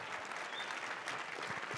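Conference audience applauding at the SAINTCON 2022 closing session, a short burst of steady clapping from a room full of people.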